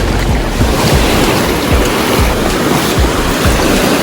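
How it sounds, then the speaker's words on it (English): Ocean waves wash onto a beach with a loud, continuous roar of surf, while wind buffets the microphone in gusty thumps. No voices are heard. "we are at the beach"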